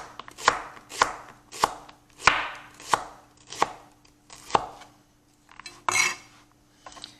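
A knife julienning a shallot on a cutting board gives about ten sharp, evenly spaced chops close by, each a crisp thud with a light clink. Between the strokes the room is nearly silent.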